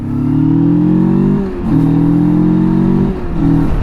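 A loud motorcycle engine revs up steadily on a highway in long rising pulls, briefly easing off between shifts before climbing again, close and continuous with no talking.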